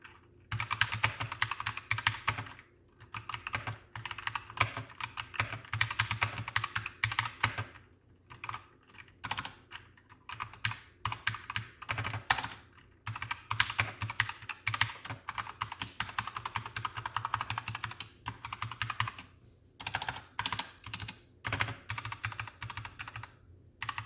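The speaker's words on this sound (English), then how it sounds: "So that's what those Gatoron optical switches sound like in the GK61" Rapid, loud clicky keystrokes on an HK Gaming GK61 keyboard with Gateron optical switches rattle away in bursts with brief pauses, close up and with no one speaking.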